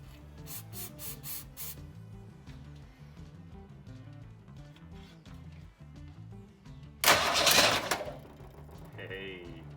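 A 1962 Ford Falcon engine is primed with starting fluid and gives one loud, harsh burst lasting about a second, close by. Quick spray hisses and light mechanical clicks come before it.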